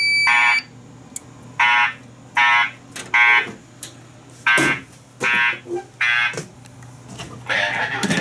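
A building fire alarm sounds in a dorm during a system test, giving a loud, repeating series of short buzzing horn blasts at regular intervals with brief gaps between them, alone without talk.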